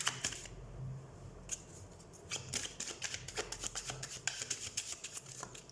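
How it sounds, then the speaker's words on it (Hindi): A deck of tarot cards is shuffled close by, first softly, then in quick rhythmic riffles of crisp papery flutters and snaps that repeat steadily, with no speech. "सबसे पहले हम कार्ड शफल कर लेते हैं।"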